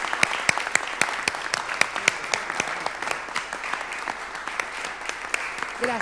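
Loud, sustained audience applause at an official reception of the SADAIC board by Argentina's president, with crisp individual claps popping out of the dense clapping and a murmur of voices beneath.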